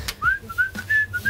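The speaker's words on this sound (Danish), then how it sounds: "Det er sådan et arbejde, hvor man skal huske at fløjte, så du ved, at jeg ikke hele tiden spiser." A person whistles a short, wavering tune of several rising notes while rolling pupils for Halloween rum balls, with light kitchen clatter underneath.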